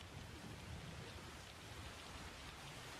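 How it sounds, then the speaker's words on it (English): Steady rain falls outside, a soft, even, distant patter with a low rumble and no other sounds. "It's actually raining where I'm at here, too, in real life."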